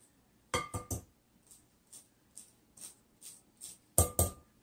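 A spoon presses and grinds chocolate chips against a bowl, giving a handful of sharp, close clinks and scrapes in irregular bursts with quiet gaps between them.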